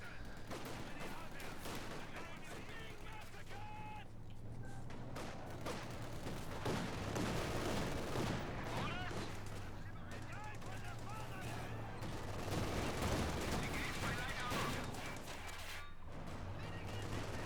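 Sturmgewehr assault rifle gunfire in a World War II tank battle game, rapid shots crackling continuously amid dense battlefield noise and an engine drone, steady and loud throughout.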